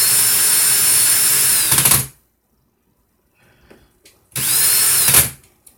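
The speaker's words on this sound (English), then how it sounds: "I'm going to put my drill in the forward or clockwise rotation, hold the clapton, twist" A power drill spins loudly twisting clapton wire to loosen it from its core, whirring for about two seconds, then quiet handling clicks before a second shorter whirring burst.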